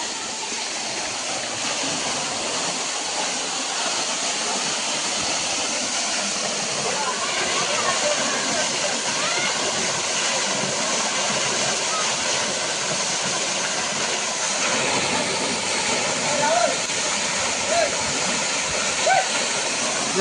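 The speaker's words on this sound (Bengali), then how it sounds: "ওই দেখুন বন্ধুরা কি সুন্দর ঝর্ণা পড়ে" A waterfall at Tel Gatti in Hailakandi pours with a loud, continuous rushing roar that holds steady for the whole stretch, with no break.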